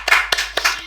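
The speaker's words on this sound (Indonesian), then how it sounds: "Mungkin kita tepuk tangan buat AF dulu." A few people clapping briefly nearby, a short burst of sharp claps lasting under a second.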